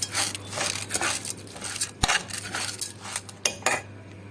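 A metal spoon scrapes and clinks against a cooking pot as rice is spooned in over golden fried onions, several close scraping strokes with one sharp knock midway.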